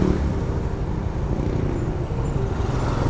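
Kymco Xciting S 400i maxi scooter riding along, a steady low engine drone with road and wind noise, fairly close and continuous with no talk.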